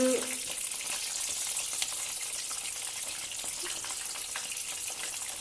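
Chicken samosas fry in hot oil, giving a steady, even hiss and crackle throughout, with a few faint clinks near the start.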